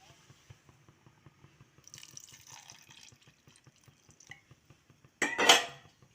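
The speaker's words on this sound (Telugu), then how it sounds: "పాలు ఇంకా కొద్దిగా వేద్దాం." Milk pours into a pot of payasam with a soft liquid rush. A steady ticking of drips and light clinks runs underneath, then a loud metallic clatter of the pot near the end, all close up.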